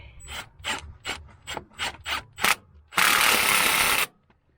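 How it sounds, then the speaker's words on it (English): A ratchet wrench tightens starter bolts on a Zetor 7745 tractor, making about eight quick, evenly spaced clicking strokes close by, followed by a loud one-second burst of rasping noise. "The one at the top's got to be put in by a wrench."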